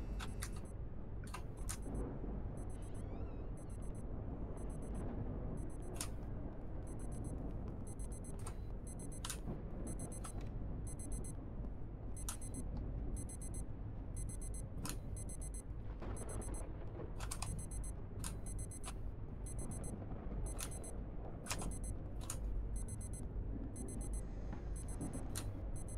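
Alarm in the horror game Obsideo, a harsh continuous ringing that holds steady for the whole stretch with rapid repeating clicks through it, loud and alone without voices.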